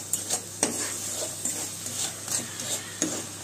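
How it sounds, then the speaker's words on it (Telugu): Jaggery syrup for poornalu bubbling and boiling in a pot, with soft scattered pops and a brief scrape or two against the vessel, close and fairly quiet. "ఈ పూర్ణాలు పాకం ఇలా పట్టేస్తే బెల్లం ఇలా ఉడుకుద్ది"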